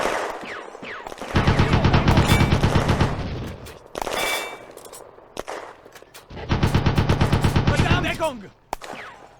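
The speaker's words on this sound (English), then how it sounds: "Schumacher on Peterson's squad MG34 takes it under fire." MG34 machine gun fire in the game Firefight on the Eastern Front, loud rapid bursts of automatic shots in two long volleys with scattered single shots and battlefield noise between them.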